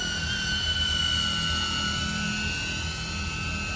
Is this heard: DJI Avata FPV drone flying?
yes